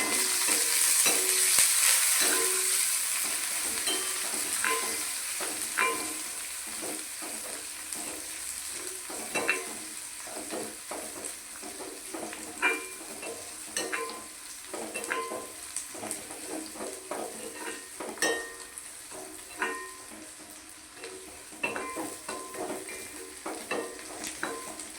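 Curry leaves fry and sizzle in hot oil for masala dosa filling, a steady bright hiss broken by repeated stirring scrapes and small pops, close and continuous.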